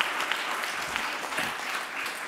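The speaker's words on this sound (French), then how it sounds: "Je vous demande de l'applaudir." Steady audience applause at the close of a round-table conference, a dense wash of many hands clapping evenly throughout with no voices on top.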